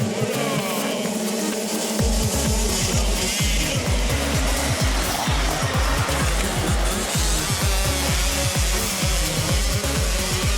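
MX2 motocross bikes at the start of a heat at Is-sur-Tille, a quiet stretch giving way to a loud, dense roar of many engines revving hard in rapid rhythmic pulses, close by.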